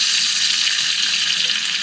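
Bacon strips sizzling in a hot pan, a steady close crackling hiss with no pauses.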